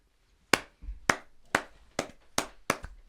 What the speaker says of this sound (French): Ça applaudit en régie.